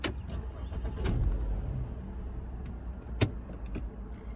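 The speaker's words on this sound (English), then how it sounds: "when you're ready, you can start the vehicle" A car engine cranks and catches during an on-road driving lesson, then settles into a steady close idle rumble with a couple of sharp clicks, without talk.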